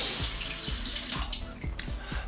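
A Tushy bidet sprays hot water in a steady hiss and splash, with soft rhythmic low thumps underneath, close and moderately quiet.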